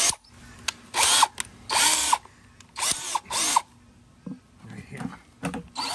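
Power drill boring a half-inch drain hole in the bottom of a plastic bucket, several short loud whirring bursts with pauses between, close up, and a brief spoken remark between bursts.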